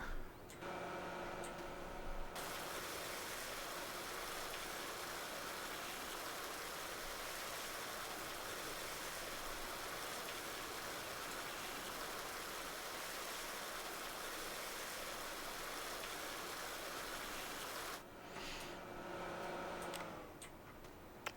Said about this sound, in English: I'm going to give my tractor a clean